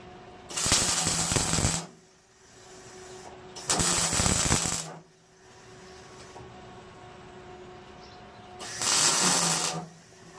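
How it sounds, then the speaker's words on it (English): Three separate bursts of welding crackle, each lasting about one to two seconds and separated by quieter pauses, as metal coat rack parts are tack-welded together in a workshop. "Just like that, she's welded in place and the second part is done."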